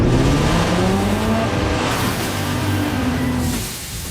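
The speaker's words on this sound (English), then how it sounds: "Rev up your engines!" A car engine revs and drones with a rising pitch sweep, loud and close, then fades away toward the end amid broad road noise.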